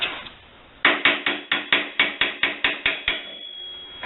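A hammer strikes metal about twelve times in an even rhythm, each blow sharp and ringing, while knocking a part out of a truck's leaf spring. The blows are close and loud, with no talk.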